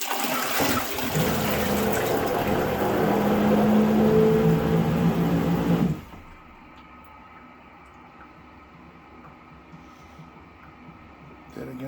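An Acent II upflush toilet flushing: a loud rushing, churning surge of water and pump noise for about six seconds, then dropping suddenly to a low residual hum and faint trickle.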